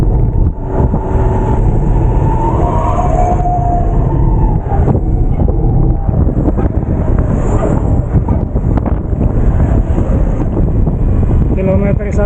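Strong, gusty wind buffets the microphone on a hot road bike ride toward Madiun, a steady loud roar with passing traffic rumble throughout and no break.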